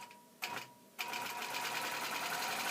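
An embroidery sewing machine stitching out a quilting design starts with two brief bursts of rapid needle clatter, then settles into continuous fast, close stitching.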